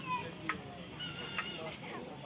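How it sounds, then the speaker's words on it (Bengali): Faint chicken clucks at a distance amid outdoor background noise near a large pond at Sixty Dome Mosque, Bangladesh, a few soft calls scattered across the moment. "আর এখানে একটা মুরগি"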